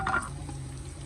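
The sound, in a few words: whole spices frying in a pot for pulao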